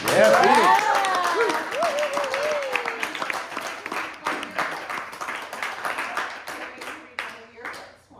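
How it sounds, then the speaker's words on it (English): Applause and clapping from an audience at a book launch party at a yoga studio, loud at first and then thinning into scattered claps, with voices talking over it. "Let's give Phoenix a round of applause."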